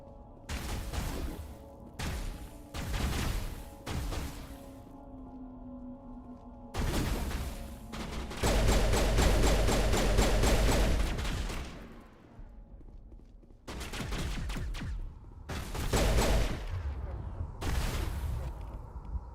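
Gunfire in Mass Effect Legendary Edition, loud bursts of rapid shots in several separate volleys with short pauses between, the longest stretch sustained near the middle.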